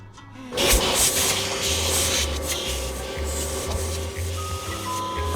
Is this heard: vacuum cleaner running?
yes